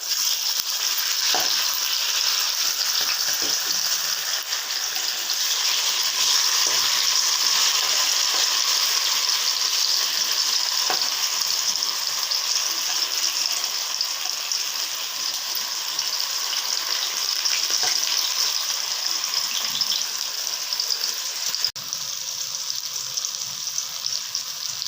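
Soaked dried chillies, curry leaves, garlic, onion and tomato fry in hot oil, giving a loud, continuous close sizzle with occasional stirring clicks and no talking throughout.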